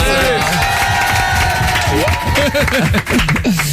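A radio studio audience on an NRJ morning show claps and cheers in a loud, continuous burst as guests arrive, with people talking over the applause throughout.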